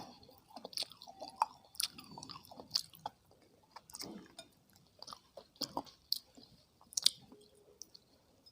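Someone eats Java plum fruit up close in an ASMR setting, making soft, wet chewing and biting sounds in irregular bursts separated by quiet gaps.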